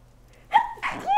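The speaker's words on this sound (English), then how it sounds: "Oh, I have to sneeze." A single person's sneeze bursts out sharply and close, with a brief inhaled buildup before it.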